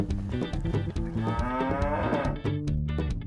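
Dairy cows on a farm, also used for plowing, low loudly and repeatedly in long drawn-out moos that overlap one another with no talking.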